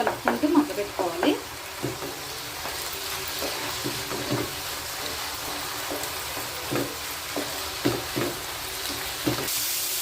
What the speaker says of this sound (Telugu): బాగా ఇలాగా మూత తీసుకొని బాగా కలుపుకుంటూ మగ్గబెట్టుకోవాలి.